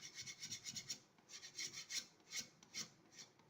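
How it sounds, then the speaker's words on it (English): Dry brushed chalk paint is scraped off wooden furniture in steady, rhythmic rasping strokes, about a dozen close, soft scrapes with no talking. "So as I'm scraping, you can see that the paint, very little paint gets into the creases here"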